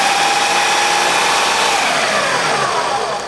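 Loud and close, a Ninja food processor runs continuously, blade spinning through cauliflower to make rice, its even motor whine holding steady before tapering slightly at the end.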